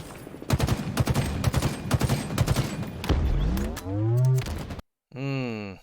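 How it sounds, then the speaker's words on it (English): Heavy suppressive automatic gunfire in a shooter video game, dense rattling bursts packed across the first few seconds, followed by a drawn-out rising tonal sound like a horn or siren that cuts off. "That was a lot of extra suppression fire."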